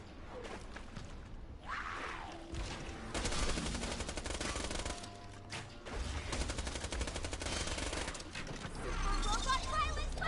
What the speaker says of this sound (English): They start shooting at you.